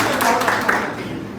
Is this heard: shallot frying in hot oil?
no